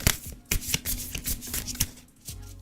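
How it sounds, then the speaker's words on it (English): Tarot cards being shuffled by hand, crisp riffling and slapping bursts in a quick irregular rhythm, close and fairly quiet, with no talking. "Hear the shuffle."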